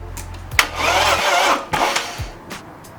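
A BMW E36 engine cranks over in short bursts with a hissing, sizzling noise, then cuts out, with quieter bursts following.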